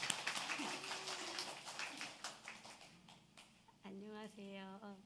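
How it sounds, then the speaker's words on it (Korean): A church congregation claps to welcome a speaker, a burst of scattered applause that fades as a voice begins talking over and after it. "우리 이지혜 자매님 박수로 한번 맞이하겠습니다"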